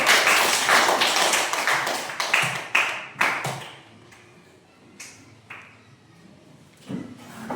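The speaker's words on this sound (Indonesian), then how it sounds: "tepuk tangan untuk kelompok 1" Students in a classroom clap for a presenting group: a burst of loud, ragged claps and taps that thins out into a few scattered, fading claps.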